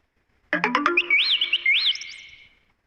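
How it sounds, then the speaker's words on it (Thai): A phone's incoming-message notification goes off outdoors in a forest beside a Makha Mong tree stump: a quick run of bright chiming tones, then two warbling rising-and-falling electronic sweeps that fade over about two seconds, heard alone without talk. "ข้อความเข้าตกใจ"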